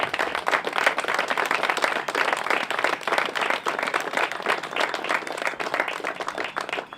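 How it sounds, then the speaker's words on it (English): A crowd at the Southern New England Brotherhood Ride 2018 memorial gathering claps steadily, dense applause filling about seven seconds at an even, fairly loud level. "So if we can get a round of applause for Jeff and what he has started."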